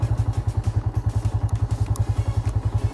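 A Yamaha Vixion (old model) motorcycle engine, fired up with the starter button, running in a fast, even throbbing idle close by, steady and loud with no voices.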